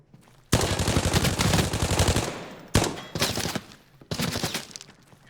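Automatic weapon fire in a beginner's arena shooter match, loud sustained bursts of rapid rattling shots, one long volley followed by two shorter bursts with brief gaps between.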